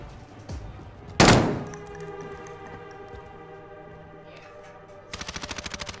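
Gunfire in a battle-royale video game: one loud, sharp shot rings out, then a tonal hum, and near the end a rapid automatic burst of about a dozen evenly spaced rounds.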